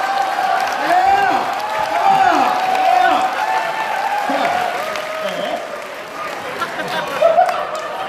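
Audience applause at a food-fight eating contest held at the 2017 Busan International Magic Festival, a dense sustained clapping from a sizable crowd, with voices and some cheering mixed in throughout.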